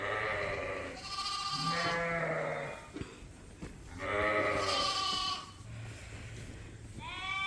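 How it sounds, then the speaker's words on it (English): Sheep and little white lambs bleat inside a barn during winter lambing. Several loud wavering calls sound close by, one after another, with lower and higher voices overlapping and short gaps of barn noise between them. "there's a whole bunch of little white lambs in the creep area"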